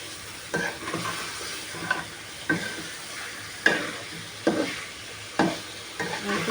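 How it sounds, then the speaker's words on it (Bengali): Chicken pieces are stirred in a sizzling frying pan, a spatula scraping in about seven distinct strokes at a fairly regular rhythm over a soft continuous fry, close and without speech. "মাংসগুলো দিয়ে একটু নেড়ে চেড়ে এর ভিতরে আলু দিয়ে দেব।"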